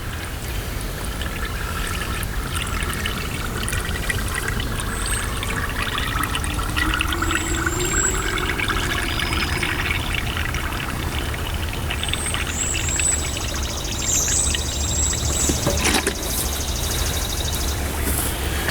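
Coolant pours steadily and continuously into a car's cooling system, a gurgling, rushing flow that lasts throughout with faint occasional squeaks and clicks, no voices.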